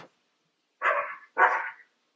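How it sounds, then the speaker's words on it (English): A pet dog barks twice, close and fairly loud, two short separate barks a moment apart in an otherwise quiet room. "No, woof woof, that's my dog."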